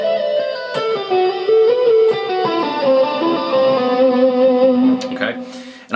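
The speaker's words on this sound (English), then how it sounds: "and then there's going to come the legato run, which sounds like this slow." An electric guitar on the neck pickup plays a slow legato run. Sustained, lightly distorted notes glide smoothly from one to the next at steady volume, with no talking, until a brief noisy scrape at the end.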